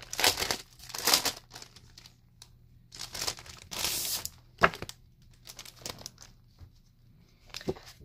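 Plastic packaging crinkles and tears as a parcel from an Echo Park haul is opened, bursts of crumpling and ripping coming in uneven clusters with short quiet gaps and one sharp snap near the middle.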